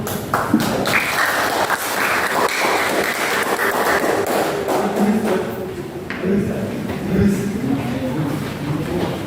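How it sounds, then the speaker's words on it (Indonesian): An audience at a group presentation session claps for group one, a spread of scattered hand claps and thuds with voices talking over and around them. "Beri aplaus untuk kelompok satu"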